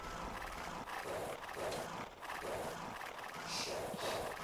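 Horses in Age of Empires II Definitive Edition clop along with occasional neighs and snorts, faint and low in the mix, coming in soft repeated bursts of hoofbeats.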